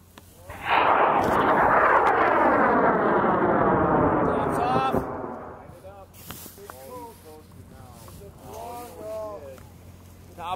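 An amateur rocket launch at a high-power rocketry event: a loud, close roaring burn with a falling pitch lasts about four seconds, then fades as voices talk and cheer.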